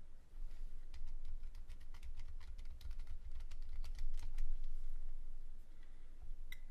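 Keys clatter on a computer keyboard while a password is entered, a steady run of close, crisp clicks over low background hum with no talking.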